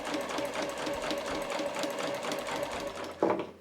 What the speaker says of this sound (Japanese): 同じ幅でまた今度戻っていくように縫っていきます